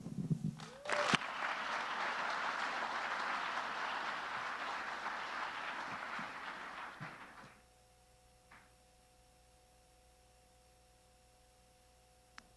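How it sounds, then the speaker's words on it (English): A crowd claps loudly and steadily for several seconds, then the applause cuts off abruptly, leaving a quiet room hum with a click or two. "Give them all a round of applause"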